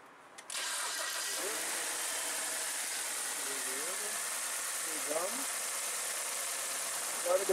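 A BMW X1 engine cranks and catches, then settles into a steady idle close by, with a few faint squeaky chirps over the hum and a voice speaking briefly over it.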